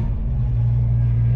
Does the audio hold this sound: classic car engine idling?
yes